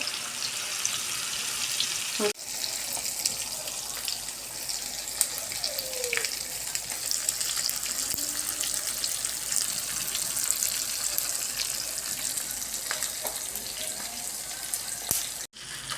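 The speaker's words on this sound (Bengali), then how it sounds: "এইভাবে মাছ ভাজলে অনেক মজা লাগে।" Rohu fish pieces fry with spices in hot oil, a steady broadband sizzle and crackle running continuously at close range, with occasional faint clinks and no talking.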